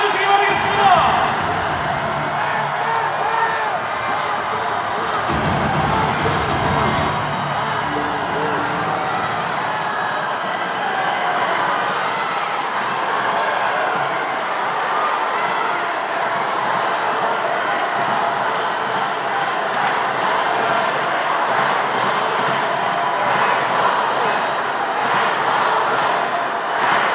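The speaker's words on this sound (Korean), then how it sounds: "박수로 맞이해주시기 바라겠습니다" A large crowd cheers and roars at a People Power Party leadership convention's Chungcheong regional joint speech rally in Daejeon, a dense, loud and sustained wash of voices and applause lasting throughout.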